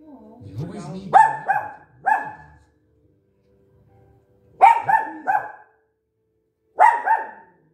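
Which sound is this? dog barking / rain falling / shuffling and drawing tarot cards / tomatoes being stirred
dog barking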